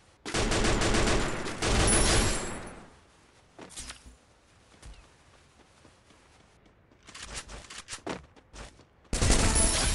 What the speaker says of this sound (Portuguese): Quem é que tá me atirando?